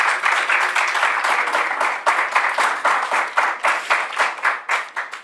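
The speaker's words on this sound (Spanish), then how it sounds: "quiero para ella un aplauso" Audience applauding Dominican visual artist Ada Balcácer at a scientific conference's awards and closing session, loud close clapping that grows into uneven, pulsing bursts as it continues.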